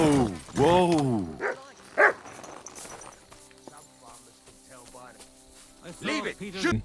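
A dog in Kingdom Come: Deliverance 2 gives a few close barks and yips near the start, then quieter whimpering sounds amid game ambience and occasional speech-like voices.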